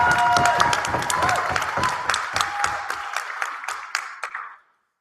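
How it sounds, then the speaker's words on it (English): Applause from a debating society audience in a university hall, dense and steady for about four and a half seconds before cutting off abruptly, with a voice briefly audible over the clapping. "give a massive round of applause"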